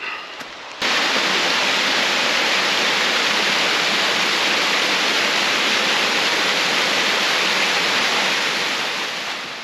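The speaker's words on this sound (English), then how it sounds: "The next feature I'm coming up on is Wade's Waterfall, and it's below me and it's flowing really well" A waterfall swollen after storms roars steadily as a dense, broadband rush of water, loud and continuous, swelling in just after the start and easing slightly at the end.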